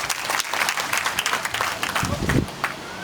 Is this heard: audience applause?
yes